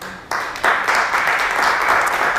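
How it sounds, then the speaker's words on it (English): An audience breaks into applause, a dense burst of clapping that starts abruptly, swells, and carries on steadily at close range. "thank you all for applauding God"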